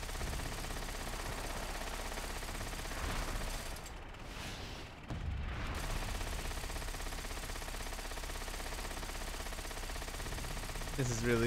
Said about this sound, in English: Explosions! More explosions!